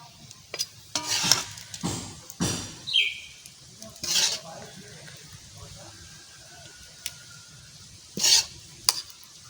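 Quail eggs frying in a pan while being stirred, with soft sizzling and intermittent scraping strokes of a utensil, plus occasional bird chirps in the background.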